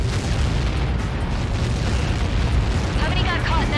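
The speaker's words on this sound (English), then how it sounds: "How many got caught in that explosion?" A large blast in the combat flight game Ace Combat 7 booms and rumbles loudly across the whole stretch, with a sustained low roar, while radio voices talk over it.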